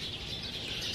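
Birds chirping around a riverside house in District 12, Ho Chi Minh City, where a flock is nesting; steady, moderately faint twittering runs throughout with no speech.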